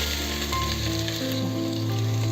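Crushed garlic, ginger and green chilli sizzle steadily in hot oil in a pan, a close, continuous frying hiss with no voices.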